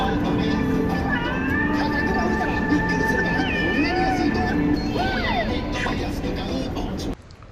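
A cat meows repeatedly, in rising and falling cries, near a tower in Shinjuku, Tokyo, over a steady hum of city background noise until the sound cuts off near the end.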